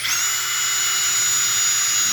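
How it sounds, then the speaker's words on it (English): A power drill whines steadily at high pitch, boring holes through an aluminum door stop for a closet in an RV bedroom, running continuously and close by. "Right now I'm just drilling holes in it so I can screw it to the door."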